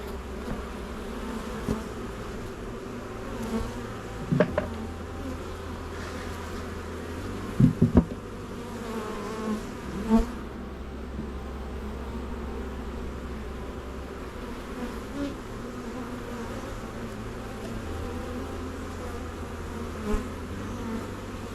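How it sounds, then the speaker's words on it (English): Honeybees buzz steadily in the open, a low continuous drone with a few brief louder passes close by, no voices; a swarm being moved into a hive box. "we should see the very few bees on the ground make their way into the Pro Nuke"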